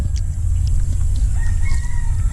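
A rooster crows loudly nearby while chickens cluck around it, over a low rumbling background.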